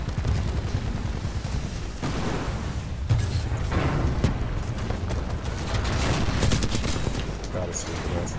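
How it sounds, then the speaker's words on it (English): Titanfall 2 gameplay combat, with dense rapid gunfire and heavy booming rocket explosions in constant overlapping bursts, loud throughout, with a player talking during the fight. "I got my rocket launcher on him."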